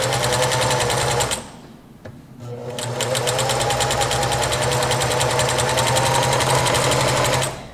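A domestic sewing machine running a close, tight zigzag stitch on fabric, a steady fast mechanical whirr with rapid needle ticking, briefly slowing and pausing near the two-second mark before resuming at full speed, loud and close.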